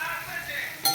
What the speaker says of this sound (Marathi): टोमॅटो चांगला तेलामध्ये परतला गेला आहे, चांगला मॅश झाला आपला टोमॅटो.